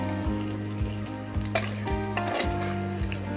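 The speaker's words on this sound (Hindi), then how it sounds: "और अब इसमें हम डालेंगे तेज पत्ता और 2 सूखी लाल मिर्च।" Loud, close crackling sizzle of a bay leaf and two dried red chillies frying in hot oil, with periodic scraping stirs of a spoon against the pan every half second or so.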